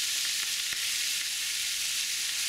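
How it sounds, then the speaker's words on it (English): Cooked pasta sizzles in olive oil in a hot non-stick pan over a gas flame, with water burning off in a steady, loud, hissing fry and no pauses. "All that sizzle is going to be just the water kind of burning off."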